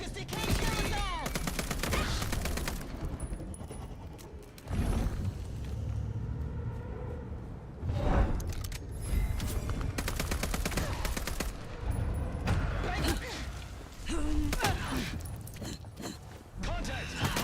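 Rapid automatic gunfire crackles in long bursts in the game Vampire: The Masquerade - Bloodlines 2, loud and sustained, broken by short pauses and mixed with shouted voices.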